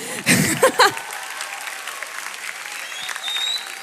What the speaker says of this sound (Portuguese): Uma salva de palmas para a arte da Lau.